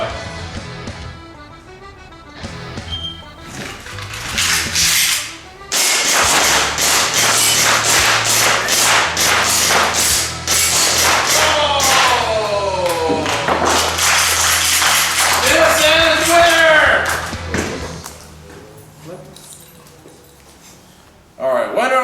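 Airsoft pistols, including a KWA USP-C, ATP, TM P226 and TM Hi Capa 5.1, fire in a shooting competition: sharp snapping pops in quick strings, with voices and room noise around them.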